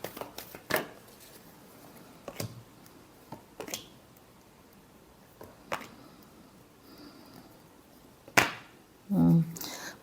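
Tarot cards are shuffled in sparse, sharp bursts, with single crisp riffles and slaps spaced a few seconds apart against a quiet room, ending in a short, brief noise.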